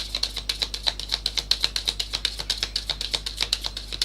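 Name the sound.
shuffling tarot cards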